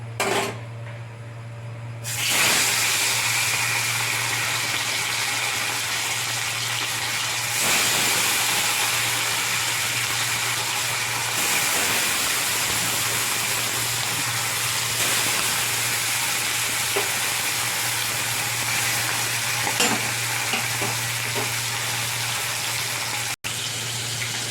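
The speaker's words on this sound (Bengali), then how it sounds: "মাছটা ভাজা হচ্ছে" Fish frying in hot oil in a wok gives a loud, unbroken hiss that starts abruptly after a brief quiet moment and holds steady, with occasional faint crackles.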